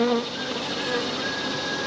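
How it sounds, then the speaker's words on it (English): Honey bees swarm and buzz around an opened hive on a very warm day, a dense, continuous, close drone with no voices. "the bees are a little ornery after you open up a hive on a very warm day"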